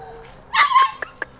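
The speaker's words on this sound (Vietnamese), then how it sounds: "Chó này chắc cũng mới một vài tháng tuổi rồi." A three-month-old Phu Quoc Ridgeback puppy at a conservation centre gives a short high yip and whimper, followed by a couple of quick clicks nearby.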